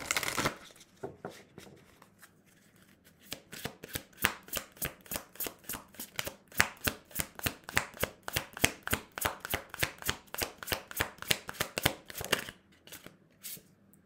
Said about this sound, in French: Allez, on va tirer une ou deux cartes.